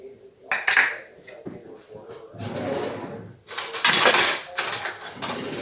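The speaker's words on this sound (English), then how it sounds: "I'm going to mix it in with the flour there. And I'm also going to put the oatmeal, half a cup of oatmeal in here." A spoon stirs brown sugar, cinnamon, oatmeal and flour together in a bowl for oatmeal cinnamon raisin sourdough bread, giving close, uneven bursts of gritty scraping and light clinks against the bowl, with no talking.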